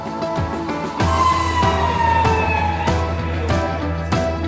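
A loud wailing ambulance siren sweeps up and down continuously, close by, with rhythmic thumping pulses underneath.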